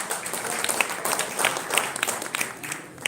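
Guests at an executive business dinner give a brief round of applause, a short burst of mid-level clapping from a seated crowd.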